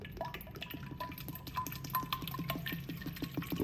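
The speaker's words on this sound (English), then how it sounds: "I have some nice bottled water. And I'm going to go ahead and pour it in here." Bottled water poured into a SodaStream E-Terra carbonating bottle, a run of small splashes and drips with rising gurgling tones as the bottle fills, close up and without any speaking.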